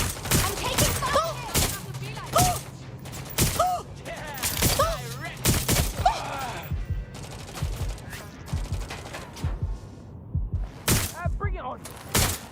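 Bursts of enemy gunfire in Watch Dogs: Legion, sharp repeated shots and volleys in irregular clusters, loud and close, mixed with game sounds and a voice talking over the firefight.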